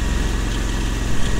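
A steady, loud low engine drone from an Argo 8x8 amphibious vehicle pushing against a river current, holding a constant throb with a slight swell near the end and no talk.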